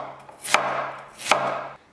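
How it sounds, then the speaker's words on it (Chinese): Two crisp knife chops slicing peeled Chinese iron-stick yam on a board, each cut a sharp close click followed by a brief scrape, with quiet pauses between. "接着我们把洗好的山药切片"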